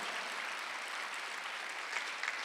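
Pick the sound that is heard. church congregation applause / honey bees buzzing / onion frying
church congregation applause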